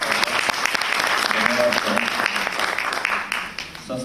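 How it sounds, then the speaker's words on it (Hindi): Audience at a youth classical music festival in Jaipur clapping loudly and steadily, dense applause filling the hall and tapering slightly near the end, with a voice faintly audible beneath. "जोरदार ताली बजा के आए।"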